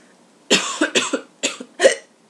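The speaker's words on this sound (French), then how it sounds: "J'ai enchaîné la toux et le hockey, c'était magique." A woman coughs in a quick burst of four or five harsh, close coughs, loud and dry, with no talking in between.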